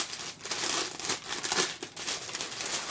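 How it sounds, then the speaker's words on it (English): Plastic packaging crinkles and rustles close by in repeated handling bursts, continuous and fairly loud with no talking over it. "So sorry for the crinkling."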